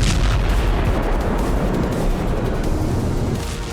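Guided bomb blast striking a fortified position on a front line, a sustained loud rumbling roar with a broad crackling wash that holds steady and then tails off slightly, no voices.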